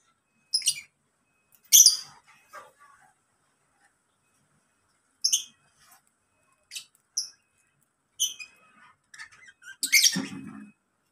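Lovebirds chirp in a cage outside a house, short sharp high calls arriving in scattered bursts with quiet gaps between them, close by and moderately loud, without any talking.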